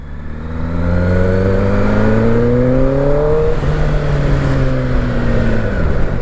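A 2025 Kawasaki ZX-10R sport motorcycle engine revs up loudly, its pitch climbing steadily, then drops and holds at a high, buzzing whine.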